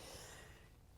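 A single short sneeze, close and fairly soft, a quick burst of breath and snort lasting under a second.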